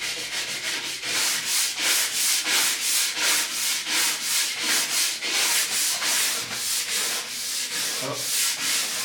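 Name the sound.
scraping old wax off a ski base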